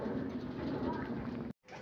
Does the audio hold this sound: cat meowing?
no